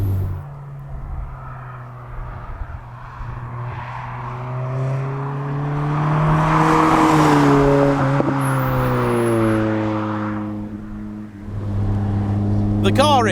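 A Vauxhall VX220 sports car fitted with individual throttle bodies drives along a winding B-road. Its engine drones inside the cabin and rises and falls as it climbs through the revs and shifts gear, with a brief dip before pulling hard again.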